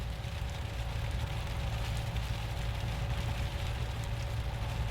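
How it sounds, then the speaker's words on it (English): Steady rain falls during a storm in the south-eastern hills near San Diego, a continuous dense hiss with low rumbling undertone throughout, no pauses and no voices. "Can you hear the rain?"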